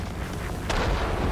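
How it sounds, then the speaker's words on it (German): An aircraft explodes in the World of Warplanes combat game, a single muffled boom with a brief crackling burst that rolls into a low rumble, close and fairly loud. "Ich hab's nur anvisiert und schon ist es explodiert."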